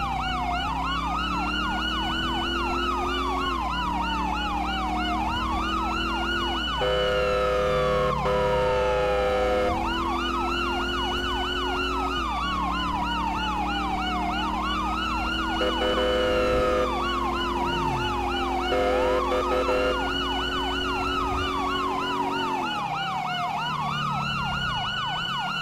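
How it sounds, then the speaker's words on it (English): A loud, continuous Carson SA-365 police siren in the video game GTA V cycles through rising and falling wails with bursts of rapid yelp, steady throughout with an engine rumble beneath and no talking. "I do love this siren. It sounds really good."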